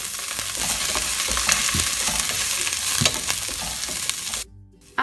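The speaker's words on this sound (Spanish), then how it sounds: "dejar que se sofría un poquito, que quede un poquito blandita, y después vamos a agregar el brócoli" Broccoli and bell pepper sautéing in a hot pan with vegetables, a steady loud sizzle broken by a few stirring scrapes, then cutting off abruptly near the end.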